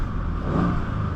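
A 2017 Mercedes-Benz CLS 550 engine runs with a low, steady rumble that swells briefly as if revved, heard close for about a second with no talk.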